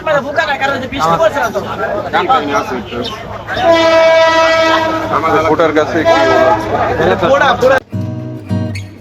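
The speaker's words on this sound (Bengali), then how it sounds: "শ্রীপুরের এই বাজারটি রেল স্টেশনের সাথে হওয়াতেই ট্রেনের আওয়াজ আপনারা শুনতে পেলেন" A train passes a market beside the railway station in Sreepur, Gazipur, sounding a loud, sustained horn over rumbling wagons and a crowd of talking people before the noise cuts off abruptly.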